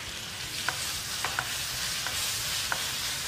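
Tomatoes and green chillies sauté lightly in a pan for a balti dish, giving a steady close sizzle broken by a few sharp spoon or spatula clicks as they are stirred, with no talking.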